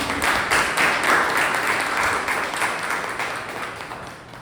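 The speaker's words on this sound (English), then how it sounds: "Can we please have a round of applause for them?" Audience applause at a Toastmasters club meeting welcoming new members, a steady wash of clapping from a room of people that holds fairly even, then gradually thins and fades toward the end.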